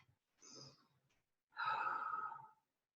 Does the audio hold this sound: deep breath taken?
yes